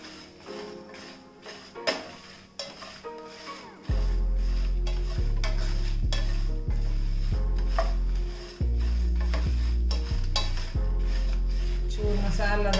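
Chicken gravy masala fries and gets stirred in a pan, with scraping and clinking of a utensil against the pan while music plays loudly over it.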